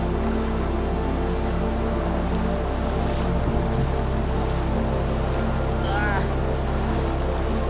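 Loud, constant roar of knee-deep floodwater rushing over a plant beside a road in the Jawhar ghat, close by, a dense wash of noise with no breaks and faint voices beneath it.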